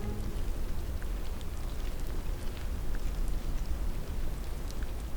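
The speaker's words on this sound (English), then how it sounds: "you basically hear this redwood needle rain, delicate ticking," Redwood needles raining down onto a quiet forest floor among the giant redwoods, a steady delicate ticking and soft patter of tiny impacts spread evenly throughout, faint and close, with no voices.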